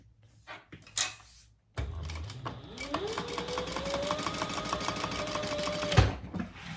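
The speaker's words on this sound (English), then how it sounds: "So I'm just going to stitch across the top as well." A sewing machine stitches across the top of a fabric bag in a fast, steady mechanical run of several seconds, rising in pitch as it speeds up, preceded by handling clicks and a short pause.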